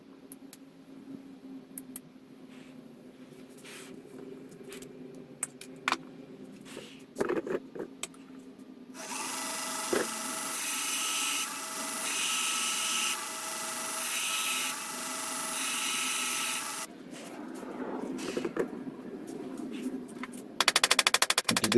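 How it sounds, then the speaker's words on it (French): Final riveting of a new blade pivot pin on a handmade square-notch folding knife, heard as a sustained burst of rapid metallic hammering in the middle, with lighter taps and handling noise before and after. "Je vais faire le rivetage final."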